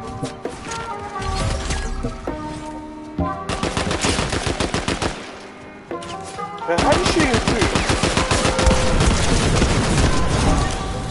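Rapid bursts of gunfire from the video game Fortnite, automatic weapon fire rattling loudly in dense volleys with brief pauses, then a long sustained stretch of shooting.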